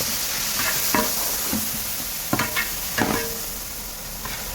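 Pickle ingredients frying in a pan, with a steady bright sizzle running throughout while a spoon scrapes and stirs in short, irregular strokes close by.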